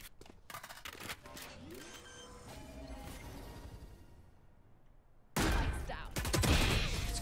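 Gunfire in a shooter video game, with scattered shots early on and then a sudden loud stretch of rapid firing, while players talk over it.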